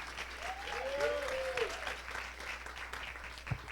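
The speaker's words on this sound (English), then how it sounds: "Let's give a round of applause for the panelists." An audience claps for the panelists at an investor masterclass session, a moderate steady round of applause under a faint voice, with a brief tonal squeak partway through and a thump near the end.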